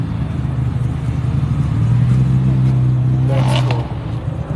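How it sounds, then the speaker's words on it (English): A Datsun 240Z leaving a Texas Cars and Coffee meet revs its engine in a rising pull that swells, holds for about two seconds, then fades as it drives away, with crowd noise around it and a brief spoken remark. "A Datsun 240Z. Damn, that sounded really good."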